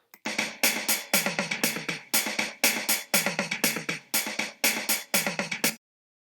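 A tom fill played alone: three quick sets of three hits stepping from high to mid to low toms, sharp attacks with short decays, fairly close.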